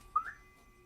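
A single quick, loud whistle imitating a danger signal, a short rising tone that peaks and fades within a fraction of a second, heard alone against quiet background.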